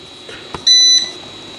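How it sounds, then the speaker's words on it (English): A single electronic beep from an FSP 480W UPS running without mains power, steady and high-pitched, lasting about a third of a second, with faint background hum before and after. "It's going to beep because there's no mains coming in."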